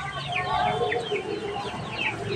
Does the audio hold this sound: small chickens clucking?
yes